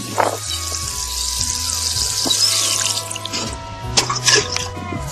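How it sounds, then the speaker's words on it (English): Water poured down into a planting hole in an organic vegetable garden while transplanting greens, with steady trickling and dripping splashes close to the microphone and no talk. "you have to make sure that you pour water down in the hole"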